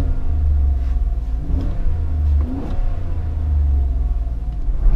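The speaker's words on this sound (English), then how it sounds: "Sounds like in the car when you rev the engine at idle." A 2018 GMC Yukon XL's engine is blipped from idle, a deep low rumble that swells in two short revs and settles back, close and loud with almost no exhaust note.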